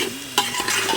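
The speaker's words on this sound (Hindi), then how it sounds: "अब मसाले के साथ अच्छे से मिक्स कर लेंगे सारे अरबी के पीसेस को" Taro pieces are stirred with spices in a pressure cooker, a spoon scraping and clanking against the metal over a soft frying sizzle, with a sharp knock partway through.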